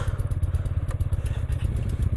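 Several motorcycles idle together after warming up on a Himalayan mountain road, a loud, steady low engine chug with a rapid even pulse running throughout and light mechanical clatter on top, with no voices.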